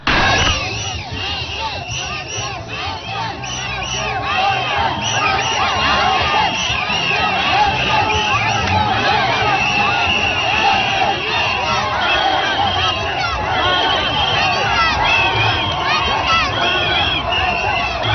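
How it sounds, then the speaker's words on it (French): A large street crowd in N'Djamena, Chad, cheers and shouts loudly and without a break as the head of state passes on his tour. Shrill voices and whoops rise above a dense roar of massed voices. "Tout le long du trajet, le chef de l'État a été ovationné par la population."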